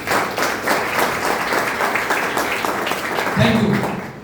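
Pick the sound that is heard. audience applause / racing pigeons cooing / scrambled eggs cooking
audience applause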